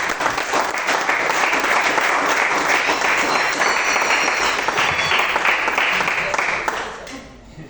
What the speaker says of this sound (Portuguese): Aplauda o Senhor Jesus Cristo.